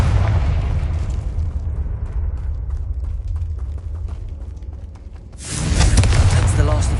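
A Confringo spell explosion in Hogwarts Legacy booms loudly after a rumbling stretch, a single heavy burst near the end over continuous game noise, with a voice speaking.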